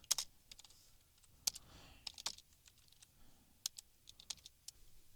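Code being typed on a computer keyboard, quiet close-up irregular key clicks in short bursts and pauses.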